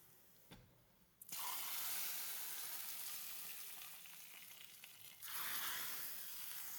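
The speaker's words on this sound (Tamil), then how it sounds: "இப்போ இதுக்கு தாளித்து ஊற்றிடலாம். தேங்காய் எண்ணெய், கடுகு உளுந்தம் பருப்பு, காஞ்ச மிளகாய், கறிவேப்பிலை போட்டு" Coconut oil tempering with mustard seeds, urad dal, dried red chillies and curry leaves, a loud, close sizzle that bursts up suddenly, runs on steadily, then flares again as more goes in.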